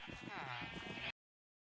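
Minecraft sheep bleat in a close, wavering cry lasting about a second, loud and alone before cutting to silence.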